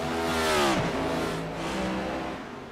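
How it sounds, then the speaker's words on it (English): Race car in an ICON Cup Series race at Chicago sweeping past on track, a loud engine roar that rises and drops in pitch as it goes by, then fades into a lingering drone. "I think I heard one car go around."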